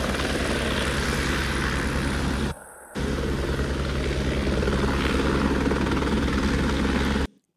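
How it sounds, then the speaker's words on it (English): A helicopter airlifting an injured person gives a continuous loud rotor chop and engine drone, broken by a brief dip near the middle before it resumes and then cuts off abruptly. "Here's the helicopter that is airlifting Jeremy Renner at the time."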